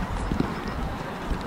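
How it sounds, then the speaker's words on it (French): Horse hooves clip-clop at an equestrian show competition, a few steady steps close by over a noisy backdrop of crowd and voices talking. "Morgane, un cheval."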